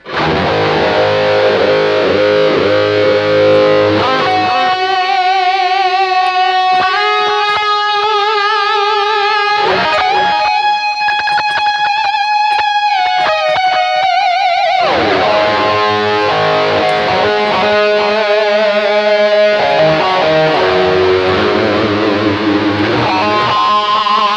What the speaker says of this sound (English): here is the first 80s heavy metal live guitar tone with no reverb